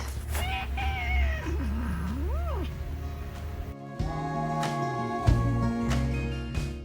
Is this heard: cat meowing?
yes